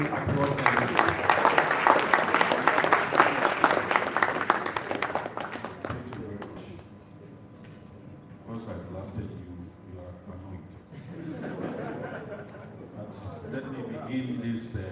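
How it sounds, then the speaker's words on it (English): Audience applause at a university HPV forum and health week launch welcomes the chairperson, a medical school dean: a full burst of clapping for several seconds fades out, then a voice speaks into a quieter room. "Let us welcome with a more resounding applause than this."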